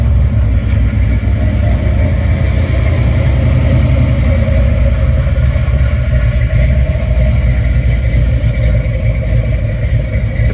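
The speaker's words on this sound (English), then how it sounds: "So this is a Sniper truck. Starts and runs really nice." A 1979 Chevrolet C10 truck fitted with a Sniper fuel injection kit idles steadily at a car show, its engine a loud, close, continuous rumble with no speech over it.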